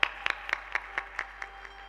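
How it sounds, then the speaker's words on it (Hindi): Slow, evenly spaced single hand claps, about nine in two seconds, fairly faint and close, steady over a low hum at an ashram gathering honouring a guest. "एक बार तालियों के साथ उनका आदर कीजिए"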